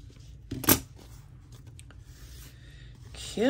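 Scissors trim Christmas lace in a quiet room, with one sharp snip standing out and softer rustling and handling of fabric around it.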